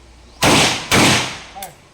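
Two loud rifle shots from a volley on a firing range ring out about half a second apart, each with a short echoing tail, followed by a fainter metallic click.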